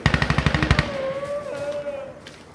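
Rapid automatic gunfire in Insurgency Sandstorm, a close burst of about a dozen evenly spaced shots in the first second, followed by a ringing whine and fading background noise.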